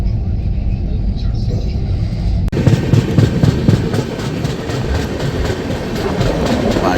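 Rails of the 13038 Kumbh Express clatter beneath the carriage in the 2AC coach between Haridwar and Howrah, with a steady rumble that turns into a louder, rhythmic clickety-clack of wheels, while a person speaks over it.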